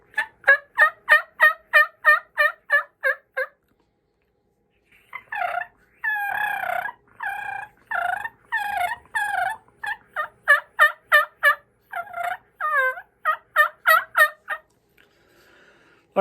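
Diaphragm turkey call imitating a wild turkey, loud and close, with a rapid run of evenly spaced yelps, then a dense flurry of cutting and purring notes, then more yelping sequences in varied rhythm.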